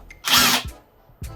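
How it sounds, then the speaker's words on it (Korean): An impact driver drives a long screw into wood: a loud, close half-second whirring burst, followed by a couple of short knocks, with no talking. "임팩트 드라이버는 힘이 많이 들어가는 곳에 주로 쓰입니다. 예를 들어 이런 나무에 긴 나사를"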